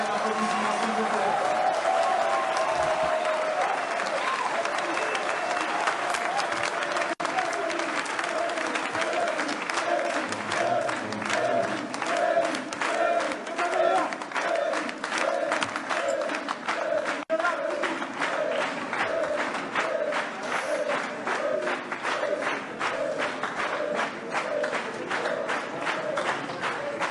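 Steady, sustained clapping fills a courtroom at the International Criminal Court as people stand, with a rhythmic, even texture that continues without a break and faint murmuring underneath.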